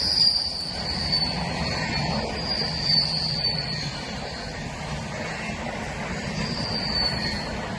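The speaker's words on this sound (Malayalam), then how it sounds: "അങ്ങോട്ടും ഇങ്ങോട്ടും ട്രെയിൻ പാസ് ചെയ്യുന്നത്" A train rumbles steadily past a level crossing at close range, with high metallic wheel squeal recurring over the rolling noise and insects chirping faintly behind.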